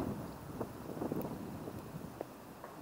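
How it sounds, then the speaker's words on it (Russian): Strong wind buffets the microphone at a city lake, producing a continuous rough, rumbling roar throughout, with no voices. "Ветер сильный, аж камеру"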